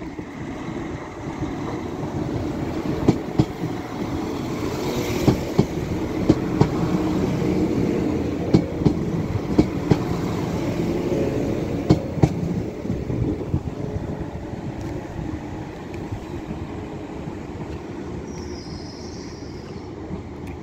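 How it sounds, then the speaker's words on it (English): A Northern Class 323 electric train pulls into Stockport station on the West Coast Main Line, with a steady rolling rumble and regular wheel clicks over rail joints that slowly fade as it slows. "So pulling in there is a Northern Class 323 from Stoke-on-Trent to"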